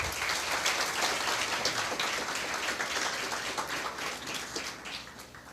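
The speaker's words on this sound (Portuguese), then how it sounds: "Aplauda ao Senhor." A church congregation applauding during a worship service, a dense wash of clapping that swells at first and slowly thins toward the end.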